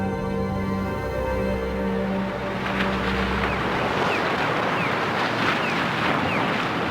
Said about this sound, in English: The waves continue to hammer at the ice, and the edge gives way under the relentless assault.